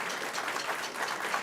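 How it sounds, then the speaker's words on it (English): Brief, soft applause from an audience for performing students, a quick even patter of many hands at a board of trustees meeting, without speech. "Audience, let's give them a big applause"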